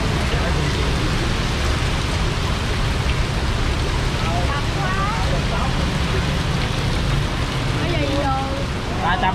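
Heavy rain pours in a dense, loud, continuous hiss outdoors, with faint chirping sounds rising through it toward the end.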